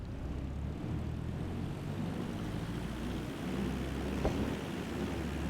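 Aircraft engine in the Microsoft Flight Simulator video game, a steady low propeller-style drone that holds at even loudness throughout, with a single brief click near the end and no speech.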